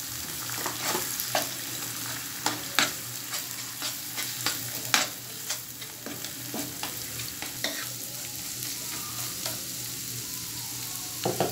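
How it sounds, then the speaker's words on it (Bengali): Two eggs are scrambled and fried in a pan with a ladle, a soft steady sizzle broken by repeated scraping and tapping strokes in an uneven rhythm, close and fairly quiet, with no voices. "এখন একটা হাতার সাহায্যে ডিম 2টাকে ঝুড়ি ঝুড়ি করে ভেজে নিতে হবে।"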